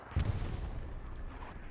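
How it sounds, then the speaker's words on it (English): Distant artillery rumbles across a battlefield in Hell Let Loose, a heavy boom near the start trailing into a low, rolling barrage of muffled impacts on Utah Beach. "Big artillery coming down on this OP's position"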